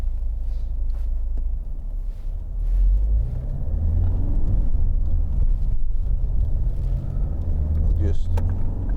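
A 2011 Ford Mondeo 2.0 TDCi Zetec diesel car on the road, heard from the cabin as a continuous low engine drone and tyre rumble that climbs in pitch as it gathers speed, with a voice talking over it.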